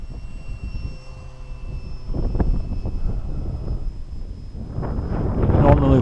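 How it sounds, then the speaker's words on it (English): A Roc Hobby WACO model biplane, fitted with a gyro and flown in heavy winds, buzzes overhead with a steady engine drone that swells as it passes closer, mixed with gusty wind noise on the microphone. "A fun little plane. Good looking plane."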